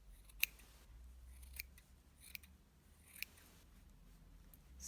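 Scissors snip a yarn pom-pom in three sharp, isolated cuts spaced about a second apart, close and crisp against a quiet room.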